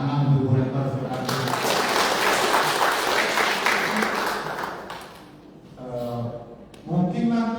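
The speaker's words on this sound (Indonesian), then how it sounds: "Tepuk tangan untuk Ibu rektor sudah ada." Audience applause for a university rector at an installation ceremony, loud sustained clapping over several seconds that fades as a voice resumes speaking.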